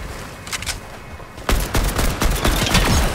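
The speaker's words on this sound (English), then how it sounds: "They're shooting at me." Gunfire in Fortnite, a few sharp shots first, then a loud rapid burst of automatic fire that continues to the end.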